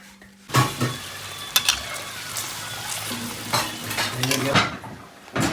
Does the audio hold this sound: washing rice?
yes